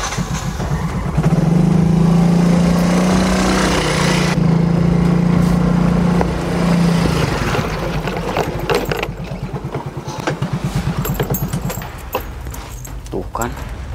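A motorcycle engine drones steadily up close, then idles and putters while people talk over it.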